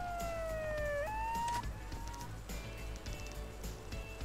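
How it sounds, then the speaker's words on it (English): A police siren in the video game Yakuza 0 gives a brief wailing tone that drops and shifts pitch about a second in, then trails off under a busy low rumble of city background. "That was an awkward siren."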